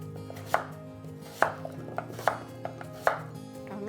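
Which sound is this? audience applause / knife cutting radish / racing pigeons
knife cutting radish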